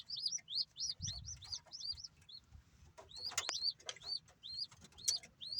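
Pigeons and kit birds on a rooftop give rapid, repeated high chirps in quick runs, fairly close but quiet overall, with some faint clicking and rustling underneath.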